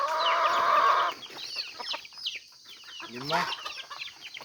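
Newly released chicks chirp and peep in a fresh coop, with short high calls scattered between loud clucking from a hen nearby and a person counting aloud.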